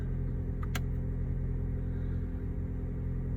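A Toyota Prius Prime's engine idles after starting, a low, steady, fairly quiet hum with a brief higher chirp near the start.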